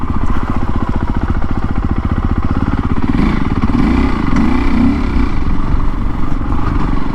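A Fantic Caballero 500 Rally motorcycle rides down a country lane, its single-cylinder engine thumping steadily and loudly up close throughout, with a slight rise and fall in pitch as the throttle shifts.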